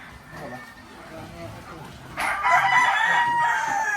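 Gamefowl rooster crows loudly and close in a single drawn-out call in the second half, after quieter clucking and someone talking.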